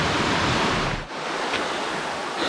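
Creek water rushing beside a mountain hiking trail in the Great Smoky Mountains, a steady broadband roar mixed with wind buffeting the microphone, close and continuous with a brief dip midway.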